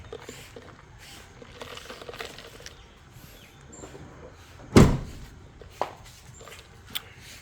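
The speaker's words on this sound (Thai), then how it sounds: "ฝุ่นเข้าฝุ่นเข้าปิดประตูก่อน" A door is pushed shut to keep dust out, giving one sharp, loud thud midway through amid quiet shuffling background noise, with a couple of fainter knocks afterward.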